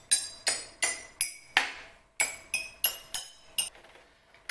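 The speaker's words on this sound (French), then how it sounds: "la différence avec les pianos où on appuie avec les doigts et avec les pieds, c'est que celui-ci vous avez un petit marteau" A baby's toy piano has its keys struck one at a time with a small hammer, giving about a dozen bright, ringing clinks in an uneven rhythm, each note decaying quickly, with no voices.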